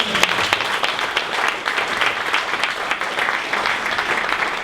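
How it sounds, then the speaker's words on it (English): An audience at a Dallas startup pitch event gives a round of applause, steady dense clapping heard close and loud throughout. "one more round of applause for patrons"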